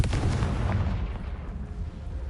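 A Confringo spell blast in the Hogwarts Legacy video game erupts as a sustained, heavy booming rumble with dense low-end roar that slowly fades, sounding like continuous artillery-style explosions without speech.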